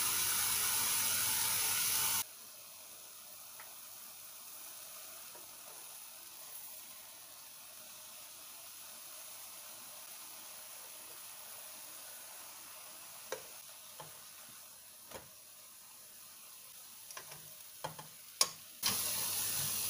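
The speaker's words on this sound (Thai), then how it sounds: "เดี๋ยวเราจะค่อยๆย่างไปจนสุกเหลืองนุ่มดีทั้งสองด้านนะคะ" Eggplant pieces grilling slowly in a pan hiss in a faint, steady sizzle, broken by a few sharp clicks and taps of stirring toward the end, after a brief louder burst of noise at the start.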